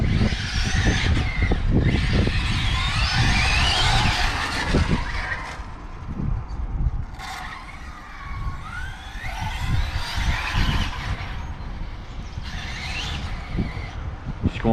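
A BMW 330d accelerating hard on a race circuit: a continuous loud engine roar with rising and falling pitch sweeps through gear changes, heard close up and sustained over several pulls, with a brief dip mid-way.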